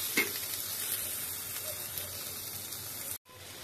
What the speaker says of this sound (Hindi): अब मैं इसी में जो टमाटर कट करके रखा था वो ऐड कर दूंगी और इसको भी अच्छे से 5 मिनट भूनूंगी मीडियम आँच में